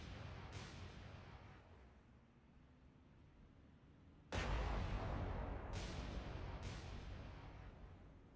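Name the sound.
torpedo explosion in War on the Sea video game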